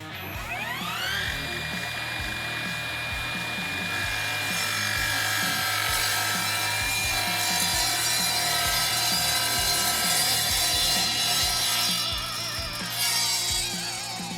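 An Evolution 40V cordless miter saw slices through a half-inch sheet of high-density plastic, its steady loud whine holding for the full cut with a slight rise in pitch near the end, alone with no talking.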